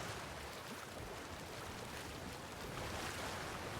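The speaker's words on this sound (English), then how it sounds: "Why do I hear drastically running water? Sounds like very fast running water." Very fast water rushes steadily in a broadband wash, quiet and distant, continuing without break.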